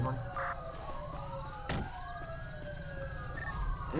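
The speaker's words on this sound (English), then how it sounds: "There is so many sirens." Several emergency vehicle sirens wail and sweep up and down at middling distance, overlapping steadily over traffic noise, with a sharp clunk partway through.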